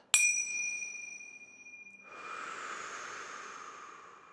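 A single bright bell ding rings out during an at-home yoga breathing practice and lingers, fading slowly, followed by a soft breathy rush of air.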